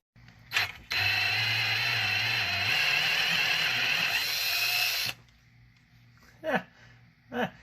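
A power drill bores into a McCulloch Power Mac 6 chainsaw part, whirring steadily and loudly for about four seconds, its pitch dipping under load, after which brief clicks and handling noises follow.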